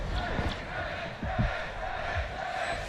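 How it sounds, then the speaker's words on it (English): Esports arena crowd at a Valorant match roaring and cheering in a steady wash of noise, with a few louder swells and thumps, a commentator's voice partly audible beneath it. "The crowd are calling"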